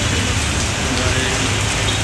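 Steady, dense rain pours down on a city street in Dhaka with a constant loud hiss and a low rumble beneath, unbroken throughout.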